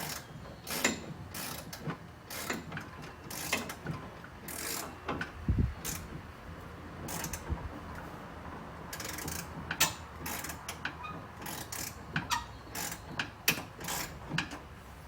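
Ratchet wrench clicking in repeated bursts as it tightens a steering shaft bolt on a John Deere HPX 4x4 Gator, close and fairly quiet, with short pauses between strokes.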